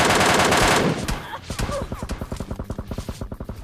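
An MK14 rifle with a red dot sight fires in PUBG Lite, a loud burst followed by a rapid, evenly spaced string of close shots that fades slightly toward the end.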